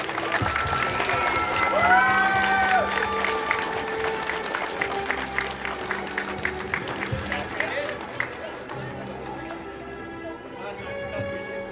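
Sustained applause at a school awards ceremony marking the last bell, a dense crowd clapping steadily for several seconds beneath a presenter's amplified voice and some feedback tones, thinning into lighter, scattered claps near the end.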